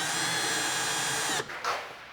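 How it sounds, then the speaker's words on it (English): A power driver or drill spins a 13mm socket to tighten the leg bolts on a hose reel mounting bracket, a steady loud whir that cuts off near the end, followed by a brief final burst. "insert the leg bolts, and fasten them down with a"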